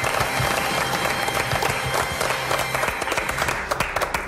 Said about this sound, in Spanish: Un aplauso para Mágico González.